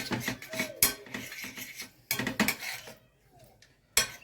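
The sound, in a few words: mixing chicken marinade ingredients together in a bowl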